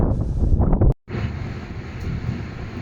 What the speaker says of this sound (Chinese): 听风声。